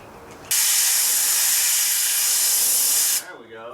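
A loud, close burst of blowing air clears pine needles from the cowl of a 1966 Mustang, a steady hiss lasting under three seconds before it cuts off sharply.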